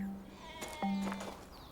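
Sheep bleating in a flock scene, two short, close, nasal bleats a moment apart, standing alone without talk.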